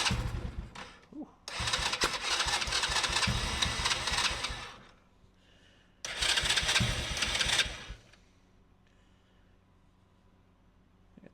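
A four-wheeler ATV engine with the choke on runs in two loud bursts of revving, about five seconds and then two seconds, each cutting back to near silence, with clicks and faint handling noises between.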